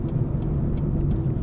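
An old car, a Ford Probe or Chevy Citation, drives on the road with a steady low engine hum and road rumble, plus faint regular ticking, close and without talk.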